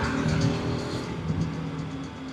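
A Bajaj Pulsar RS200 motorcycle engine, not fully warmed up, runs steadily with a low rumbling drone, slight throttle rises, close and fairly loud, with wind noise mixed in.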